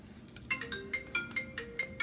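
A phone rings with a repeating electronic ringtone, a series of bright beeping tone bursts pulsing steadily at close range, with no talking over it.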